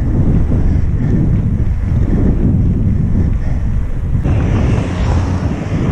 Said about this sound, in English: Now, clouds have come, it's windy, and again it is March.